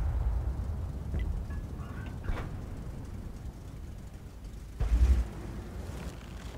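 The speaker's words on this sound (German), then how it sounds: "Ach, einen Schuss machen wir noch." A tank cannon fires in the World of Tanks video game: one heavy, booming shot rises out of a steady low engine rumble, with smaller thuds earlier in the clip.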